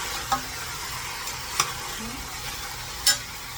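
Pork pieces for sinigang cook in a pan with a soft, continuous frying hiss, broken by three sharp utensil clicks against the pan.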